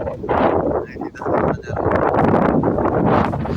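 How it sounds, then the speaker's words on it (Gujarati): Strong gusts of wind buffet the microphone in rumbling surges, loud and close, rising and dipping throughout. "સરસ મજાનો પવન આવે છે"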